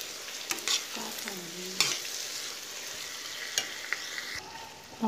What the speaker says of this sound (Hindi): ये हमारी गोभी है पाव जी में, देखिए इसको भी हम अच्छे से मिक्स कर देंगे।